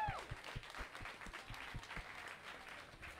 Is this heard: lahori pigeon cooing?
no